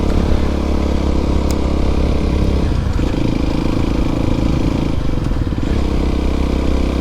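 An Aprilia SX125 supermoto motorcycle engine drones steadily and loudly throughout, with a low rumbling tone that shifts pitch around the three- and five-second marks as the rider changes speed.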